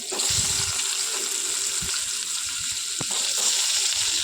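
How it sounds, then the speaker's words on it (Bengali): Potato pieces fry in hot oil in a pan, a steady close sizzle with a few low thumps and clinks from stirring, heard alone without speech. "তো আলুগুলো ভালো করে ভেজে নেবো, একটু লালচে লালচে করেই ভেজে নেবো।"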